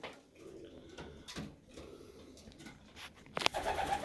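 Soft pigeon coos and low murmuring bird sounds nearby, with light rustling and a brief clatter near the end.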